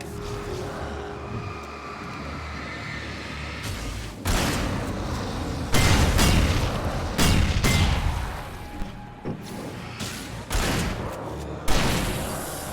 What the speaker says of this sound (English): Sometimes explosions happen.